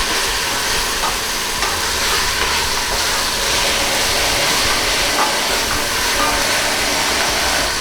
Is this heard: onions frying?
yes